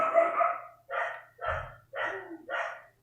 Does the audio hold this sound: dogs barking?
yes